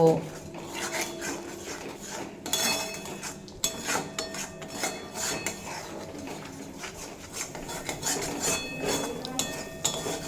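Ground coriander, cumin and a little Kashmiri chilli powder are stirred and roasted in a pan, with intermittent scraping and clinking of a utensil against metal at close range and a faint murmur of background activity.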